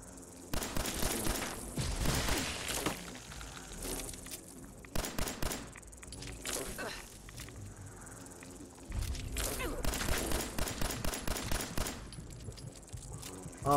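Gunfire in the video game Fallout 4 comes in rapid bursts of shots, loud clusters separated by quieter gaps.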